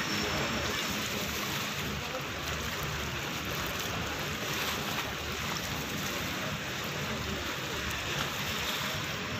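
Night seaside ambience on the Tokwawan sea, a steady soft wash of water and wind with a boat somewhere nearby, continuous and fairly faint with no clear voices.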